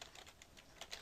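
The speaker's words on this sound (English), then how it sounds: "go to your CMD, and type in IP" Keys tapped on a computer keyboard while entering a command, a few quick, light clicks in a short, quiet burst with no voices.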